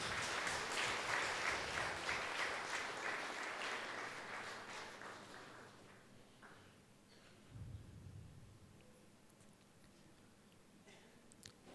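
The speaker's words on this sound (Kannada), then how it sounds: "ಎಲ್ಲರೂ ಜೋರಾಗಿ ಚಪ್ಪಾಳೆ ತಟ್ಟೋಣ." Congregation at a midnight Christmas Mass in a church applauding while the priest cuts a cake with children; dense clapping swells at first, then fades to scattered claps and quiet room noise.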